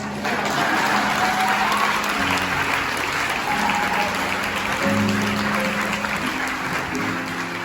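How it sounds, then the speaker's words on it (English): Audience applause during a Christmas choir concert, a full, steady burst of clapping from a large crowd that holds loud throughout, with faint tonal sounds beneath it. "You should clap right there."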